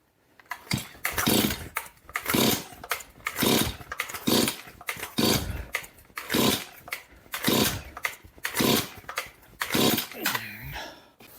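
A Stihl chainsaw, just back from a repair shop, is pulled repeatedly to start: about nine rhythmic rasping cord pulls with brief sputtering catches, ending in a short rough burst of engine running, close by.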